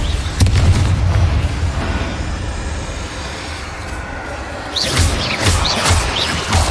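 Spell blasts in a Hogwarts Mystery game duel, a dull explosive boom early on, then a cluster of bright crackling bursts with low thuds toward the end, fairly loud with no talking.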